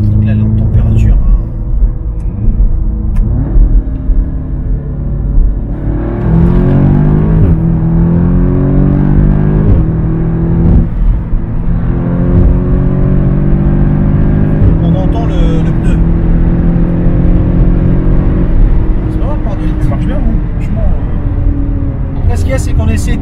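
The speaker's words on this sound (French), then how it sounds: "Là la voiture, t'entends, elle a un bruit de roulement" Audi S3 8V Stage 2 car driving with a bearing or tyre rolling noise: a loud, constant low rumble and drone from the road, with engine pitch rising and falling, heard from inside while people talk over it.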